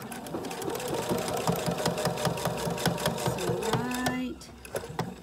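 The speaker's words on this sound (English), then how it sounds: "I'm gonna do a fixed stitch right there, and I'm gonna sew straight" Sewing machine running a short fixed stitch in fabric, a steady fast needle rhythm that stops near the end, with talk over it.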